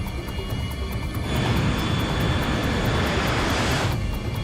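Continental 1713 airliner powering up for takeoff, a broad steady engine roar that swells louder after the first second and holds, with no talk over it.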